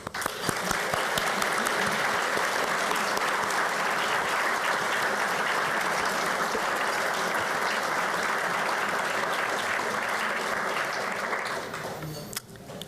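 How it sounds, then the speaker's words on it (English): A large audience applauds steadily at a school prize announcement ceremony, a dense, even wash of clapping that holds for about twelve seconds before tapering off at the end. "I can be joined in a round of applause"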